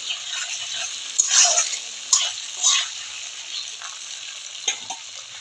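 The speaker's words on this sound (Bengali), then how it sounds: "এখন আমি তেলের মধ্যে সব দিয়ে দিচ্ছি, একটু ভাজা ভাজা করে নিব লাল লাল করে" Chopped garlic, green chilli and cumin fry in hot oil with a soft, steady sizzle, punctuated by a few brighter crackling bursts and stirring clinks close by.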